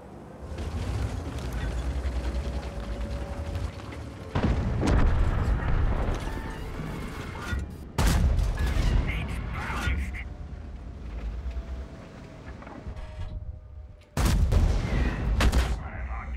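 Artillery shells and explosions thunder across a World of Tanks battle, with repeated heavy booms and bursts of gunfire rolling in at intervals, loud and close, some blasts sharp and others sustained.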